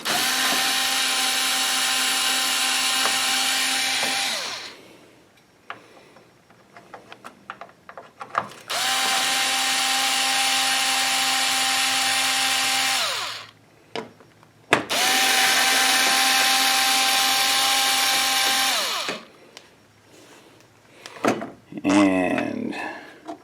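A power driver spins 10 mm bolts out of the grille of a 2016 Chevrolet Sonic in three long, loud whirring bursts separated by pauses filled with small clicks and handling noises.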